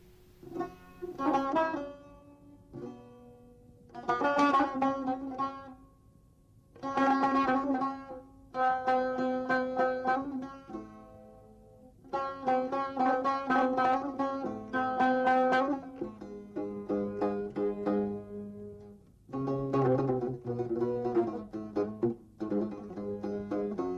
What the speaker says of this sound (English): Buzuq sounds like this.